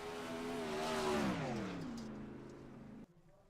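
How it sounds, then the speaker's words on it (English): A sprint car engine on the track at Oswego, sounding like it is struggling, revs loudly with a rising and falling pitch as it passes, then drops off sharply near the end. "Sounds like the motor's struggling a little bit out there."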